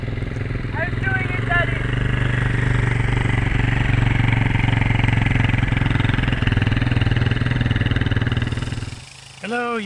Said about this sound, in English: I am finally teaching Napa how to ride a motorcycle